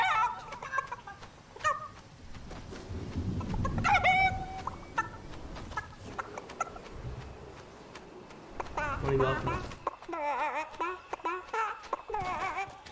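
A chicken in Fortnite clucks in several bursts of sharp clucks amid game noise and running, with people talking throughout.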